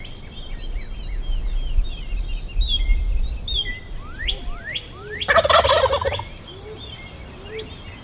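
A wild turkey gobbles in the woods, one loud, rattling gobble from fairly close standing out over a busy chorus of chirping songbirds and a low outdoor rumble.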